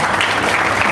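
Applause from an audience at a religious discourse, a dense, steady patter of many hands clapping together, loud and close, with no pause for about a second.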